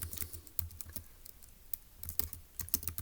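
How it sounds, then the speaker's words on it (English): Rapid typing on a computer keyboard, a steady patter of close, crisp key clicks with brief pauses and no talking. "Okay, well, let's type that up."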